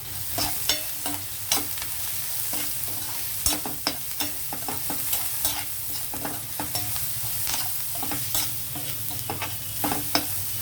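Cluster beans frying with salt in a pan as a spoon stirs them, a steady close sizzle broken by frequent sharp scraping clicks of the spoon against the pan, with no voices.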